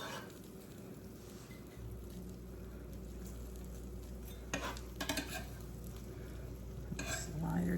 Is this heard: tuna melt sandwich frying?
yes